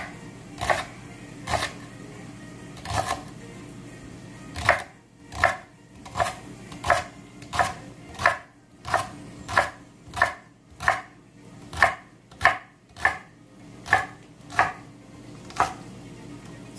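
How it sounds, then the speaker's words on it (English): A knife chops three celery stalks into small rings on a cutting board, giving a steady run of crisp, evenly spaced chops that start sparse and then settle into a quick regular rhythm, close and clear with no talking. "we're going to cut these into small little ringlets"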